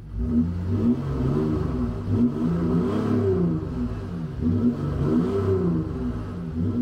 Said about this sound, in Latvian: Tas ir 3-litrīgs dīzels, un dīzeļi baigi neskan